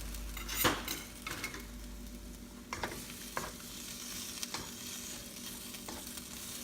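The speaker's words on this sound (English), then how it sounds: "so we're gonna add our pineapple juice" Half-cooked fish in a pan as pineapple juice goes in, with a steady quiet sizzle under sharp metallic clinks and scrapes of a utensil against the pan at irregular intervals.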